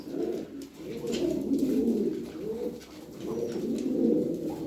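Soft, continuous cooing of several Aksaray tumbler pigeons, rolling low calls that overlap and swell in waves, fairly close with no talk.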